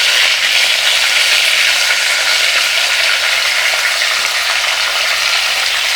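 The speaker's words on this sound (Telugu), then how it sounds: "ఇప్పుడు ఈ వంకాయలన్నీ ఇందులో ఆయిల్ వేడెక్కింది కదండి" Stuffed brinjals (eggplants) sizzle steadily in hot oil with curry leaves, a loud, close, continuous frying hiss with no talking.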